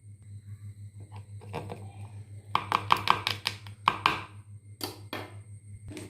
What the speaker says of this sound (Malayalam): ഒരു സവോള ഇതെല്ലാം കൂടെ ഒന്ന് ചെറുതായിട്ട് അരിഞ്ഞെടുത്തിട്ട് വരാം നമ്മൾ